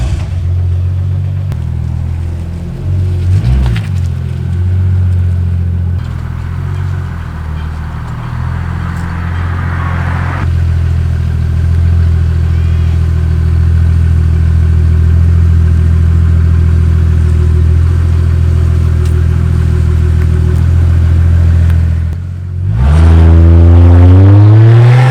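A car fitted with a body kit drives through a residential neighborhood, its engine humming steadily and close, with a gentle rise in revs partway through and a sharp acceleration near the end.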